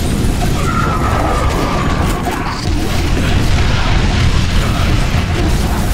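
Fire support strike in a video game, heavy explosions booming and rumbling in a dense, loud barrage of crashing blasts with continuous low roar.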